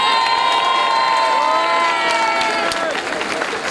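Large outdoor festival crowd cheers and applauds the elected children's municipal council at an opening ceremony, loud whoops and shouts over clapping, with high children's voices prominent.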